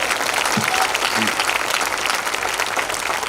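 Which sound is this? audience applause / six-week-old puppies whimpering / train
audience applause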